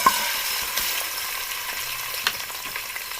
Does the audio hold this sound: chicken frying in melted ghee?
yes